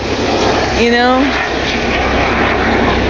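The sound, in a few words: helicopters flying overhead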